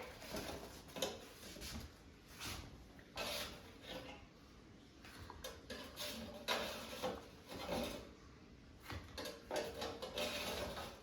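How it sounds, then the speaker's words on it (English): Trader Joe's Panzerotti pizza bites being lifted out of an air fryer basket, with quiet, scattered clinks, scrapes and light clatter of metal and dishware in a calm kitchen, no talking. "Let me take them out of the air fryer."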